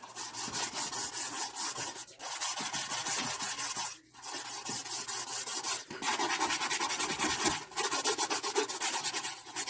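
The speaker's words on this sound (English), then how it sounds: "Use a Scotch pad here." A Scotch pad scrubs old car parts on a 1964 Mercury Comet that sat for 23 years, a loud, continuous rasping rub in rapid back-and-forth strokes with a few short pauses.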